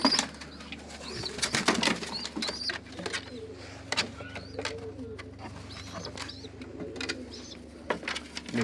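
Pigeons in a loft cooing in low repeated calls, with bursts of wing flapping and scattered bird sounds, close and lively throughout.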